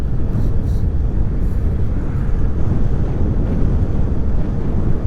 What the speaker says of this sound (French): Il y a un petit peu de vent cette fois.